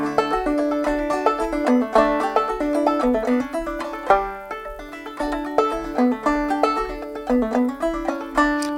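Clawhammer banjo plays the old-time tune Ducks on the Millpond with an altered harmony moving from the one chord to the four and back, a bright, steady brushed-and-plucked rhythm heard alone and close.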